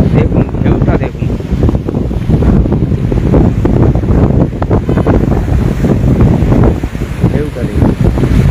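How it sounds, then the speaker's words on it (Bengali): Sea waves surge and break against a jetty while strong wind buffets the microphone, making a loud, continuous roar with rising and falling wash throughout. "এবং দেখুন ঢেউটা"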